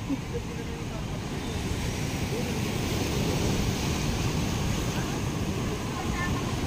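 Sea waves at Mabato Beach wash in as a loud, continuous broadband rush of surf, steady and close, with no clear breaks between swells.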